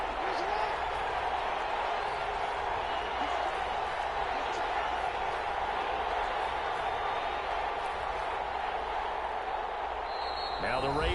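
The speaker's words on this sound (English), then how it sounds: "the crowd getting into it as we come up on a big 3rd down" Crowd noise in an American football video game, a steady broad roar of cheering held at an even level for the whole stretch, with faint thumps and a bit of talk underneath.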